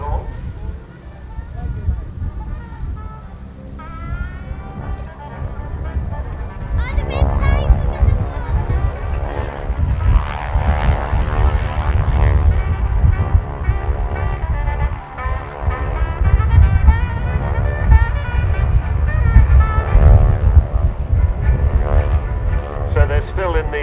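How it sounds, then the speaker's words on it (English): Propeller aircraft flying in formation at the RAF Cosford airshow, wingwalker biplanes giving a steady droning engine roar that swells and fades slightly as they pass, with a commentator talking over it. "So they're still in the stack formation there with the aircraft behind and below, almost underneath the lead aircraft."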